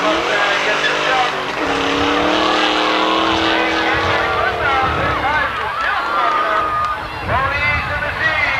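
Race cars at Seekonk Speedway, including a circa-1986 Nissan 300ZX and a Mustang, roar loudly past with rising and falling engine drone and tire squeal, under a track announcer's commentary.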